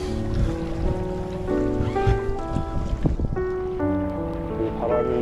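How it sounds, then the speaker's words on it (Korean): A sailing yacht glides on a calm sea under wind power alone off Busan, with soft wash of water and wind noise beneath steady melodic tones. "자, 우리 바람으로만 좀 세일링을 하고 있습니다."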